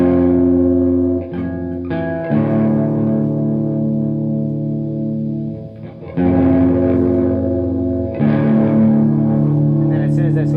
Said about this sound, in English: It's very deep reverb, gives it more of like a white noise when you're in the full section.